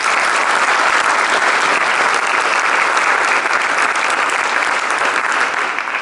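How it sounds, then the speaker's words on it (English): Dense, sustained applause from an audience at a middle school jazz festival, greeting the jazz band's soloists, including trombone and drum set, with an even roar of many clapping hands throughout and no speech. "Let's give them a round of applause."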